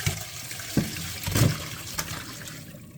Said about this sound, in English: We're going to drain this water out of here.